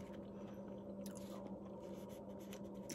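Close, steady crunching and chewing of a crisp snack, with small irregular bites and mouth noises continuing throughout.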